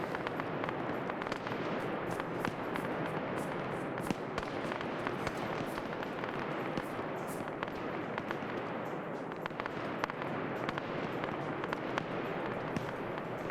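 Rapid, dense barrage of mortar and artillery blasts from a military video game siege battle at Jadotville, loud and continuous with crackling explosions overlapping throughout, no voices.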